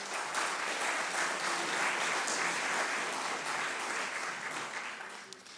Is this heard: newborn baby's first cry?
no